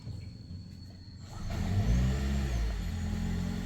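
A hybrid car's engine catches and comes to life after the gas pedal is pressed down hard, a quiet idle giving way to a steady, close mid-pitched engine rumble that holds through the end.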